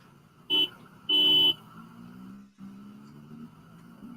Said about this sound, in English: you honked that horn